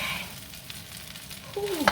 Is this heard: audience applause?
no